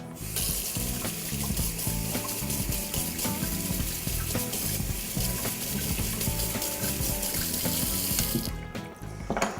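Kitchen tap runs steadily into a sink while a carrot is cleaned under it with a vegetable brush, a constant close water rush that stops near the end.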